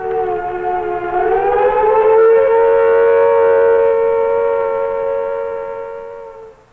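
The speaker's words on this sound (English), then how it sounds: "The standard attack warning signal is a 3 to 5 minute wavering sound like this." Wavering civil defense attack warning siren from a 1968 public safety broadcast, a loud steady tone that rises at the start then holds and slowly fades, with rich stacked harmonics and no voices.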